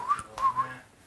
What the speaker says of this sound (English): Give a little whistle.